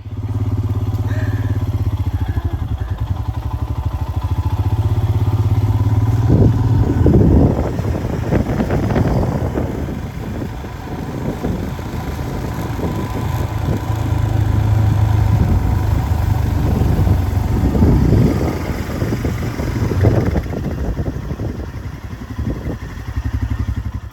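A motorbike engine drones steadily throughout while riding through fields in Hoi An, Vietnam, with wind buffeting the microphone in gusts, the rumble rising and easing as it rides along.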